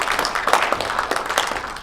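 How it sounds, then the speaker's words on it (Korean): Audience applause at a commemoration ceremony marking the 103rd anniversary of the Korean Declaration of Independence and a book publication, a steady, dense patter of many hands clapping throughout, moderately loud. "다시 한번 박수 부탁드립니다"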